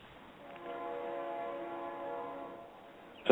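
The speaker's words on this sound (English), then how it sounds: "Sound like a freight train." A freight train heard from a porch during a neighborhood block party, its horn sounding a steady, moderately loud chord for about two seconds before fading, with no talking.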